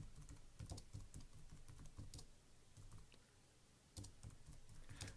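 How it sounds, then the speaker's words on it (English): Fingers type on a computer keyboard: soft, close, quick clicks in uneven bursts with short pauses between them. "Now right at the moment I'm just going to type in a few."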